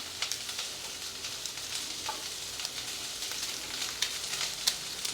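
Stuffed brinjal with garlic frying in a pan, a soft, steady oil sizzle with small crackles and pops, close but fairly quiet.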